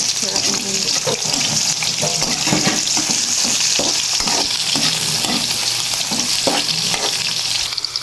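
Onion, garlic and ginger sautéing in a hot pan, a loud, dense, continuous sizzle with the scraping and knocking of a stirring utensil, heard up close without speech.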